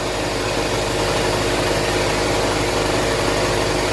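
An air compressor running during spray painting, a steady, loud mechanical drone with a constant low hum and broadband hiss, unchanging from start to finish with no talking.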